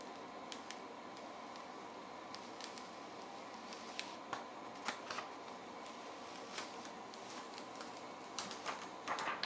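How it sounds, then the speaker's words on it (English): Carrier sheet peeled off heat transfer vinyl after pressing in an auto heat press, giving faint crackly ripping ticks scattered over steady room noise, growing denser toward the end, with no voices. "let's go ahead and peel this off and see how it did"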